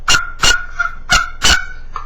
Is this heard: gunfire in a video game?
no